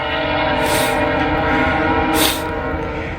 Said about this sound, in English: We got us a train coming. I believe this is Norfolk Southern 178, headed to Bellevue, Ohio.